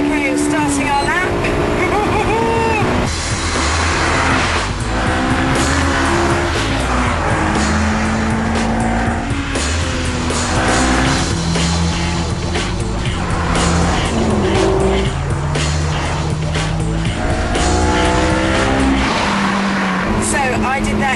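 A car runs a fast lap on a race track, the engine loud and constant as it rises and falls through gear changes, with tyres squealing now and then. Someone talks over the engine throughout.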